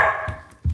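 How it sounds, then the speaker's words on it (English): A dog gives a couple of short barks close by, with a brief pause between them. "At the start of it, my dog's barking."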